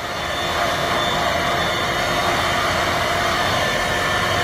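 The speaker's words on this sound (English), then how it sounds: "Yeah, she's been vacuuming." A vacuum cleaner runs steadily during household cleaning, a loud, continuous whooshing drone that holds constant throughout with no voices.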